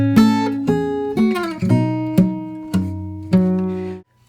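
Fingerstyle acoustic guitar plays a short bar from Jingle Bells: about seven plucked notes and chords in a steady rhythm, each ringing with clear harmonics. It is close, moderately loud and alone, and the last note is cut off sharply.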